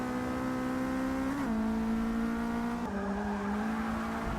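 A Mercedes-Benz 190E race car in Forza Motorsport 6 holds a loud, steady engine drone close by, its pitch dipping briefly twice as the driver shifts or brakes, with faint tire noise beneath.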